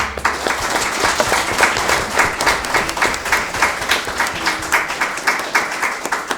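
Rhythmic clapping in unison from a school audience at an elementary-school Whiz Kids quiz match, steady beats running throughout at moderate loudness with light crowd murmur.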